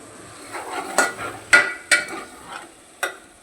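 A spoon stirs chili powder into a simmering tomato and drumstick curry in a pot, making a handful of scraping strokes at an irregular pace, close and moderately loud, with no voices.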